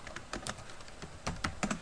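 Typing on a computer keyboard while filling in an HVAC plan, a short burst of close, fairly loud keystrokes in uneven clusters with no talk.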